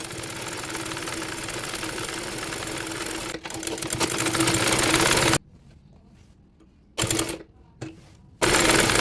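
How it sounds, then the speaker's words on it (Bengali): Sewing machine stitching the side slit of a baby nighty, a close, fast, steady whirring run that stops abruptly, followed by a couple of short bursts of stitching between pauses. "এবার সাইড ফাড়ার সেলাইটি দিয়ে নেব।"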